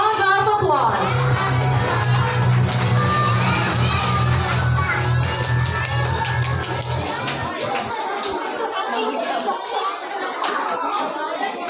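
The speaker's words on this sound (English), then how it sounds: "Let's give them a big, big round of applause." A school hall crowd at a Christmas program cheers and claps for grade 2 and 3 children about to present a Nativity play, loud shouting and applause sustained for several seconds before fading to scattered chatter.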